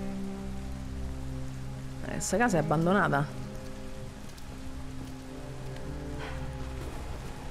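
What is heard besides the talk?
rain falling in the video game Detroit: Become Human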